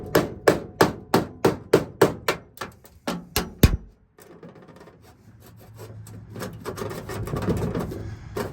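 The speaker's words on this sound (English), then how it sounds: "So I'm gonna use this tool here, and with my hammer, I'm gonna try to separate that from the body." Sharp metallic hammer strikes on a tool against the body of a 1971 VW Super Beetle land in a steady rhythm, about a dozen loud blows, then give way to a quieter scraping and grinding rub.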